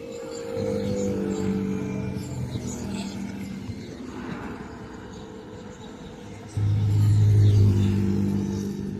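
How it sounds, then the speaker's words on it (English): Fast oncoming traffic at a road junction with roadside stalls, a continuous low engine rumble and road roar that swells loudly near the end as a vehicle approaches, with a voice talking over it. "in this video, you can see that there's a high speed oncoming traffic, and there's also cars making the turn to head to the right."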